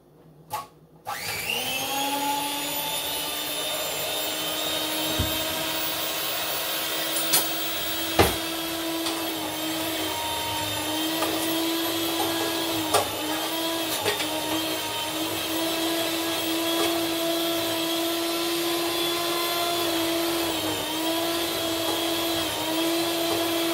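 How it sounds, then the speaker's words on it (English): A Mixmaster electric mixer beats gluten-free blueberry cheesecake batter in a home kitchen, starting with a switch-on thump, then a steady loud motor whine with a few clicks and knocks from the beaters, running continuously without talk. "now you get to hear my"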